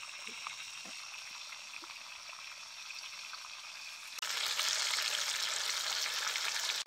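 Whole chicken roasting in a kadhai in half ghee, half oil over a low flame outdoors in a riverside field, giving a steady close sizzle that grows suddenly louder and brighter partway through, with no voices.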